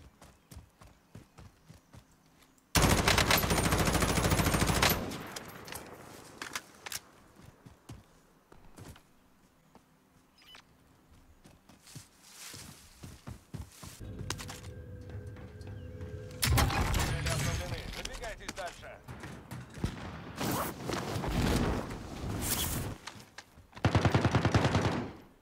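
Gunfire in a PUBG solo match with Kar98 rifles, heard as scattered quiet shots and a few loud bursts separated by long quiet gaps, with occasional speech.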